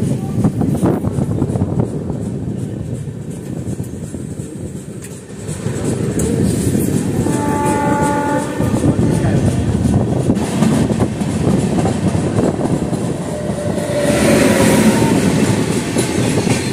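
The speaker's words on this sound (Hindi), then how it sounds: "अपनी ट्रेन स्लोली स्लोली स्किप कर रही है रानी कमलापति रेलवे स्टेशन को" Passenger train 12174 Udhyog Nagri Express slowly running through Rani Kamlapati railway station, with steady clickety-clack of wheels over rail joints, a constant rumble of carriages and brief squeals, close and loud throughout.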